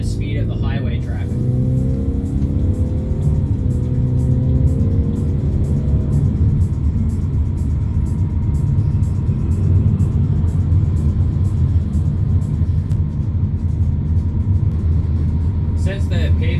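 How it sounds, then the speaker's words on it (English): Car engine rumbles steadily as it gains speed to merge onto highway traffic, with road noise throughout and a person talking over it. "I gotta get my speed up to the speed of the highway traffic."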